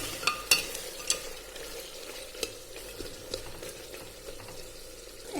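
Tomatoes frying and being stirred in a pan of mutton and potato curry over medium gas flame, a soft steady sizzle broken by a few sharp spoon scrapes and clinks near the start.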